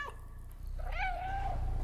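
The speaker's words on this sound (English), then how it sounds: "Guys, he's purring." A cat in the video game Stray gives a soft, drawn-out meow over a low, steady purring rumble, close and fairly quiet.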